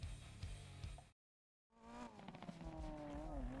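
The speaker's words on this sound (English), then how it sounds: "Let's see how it handles. Oh, it goes into a drift all right using the brake." A 1987 Ferrari F40 in a Need for Speed game revs hard, cuts out for about half a second, then returns with a rising engine howl and tire squeal as it drifts under braking, loud and close.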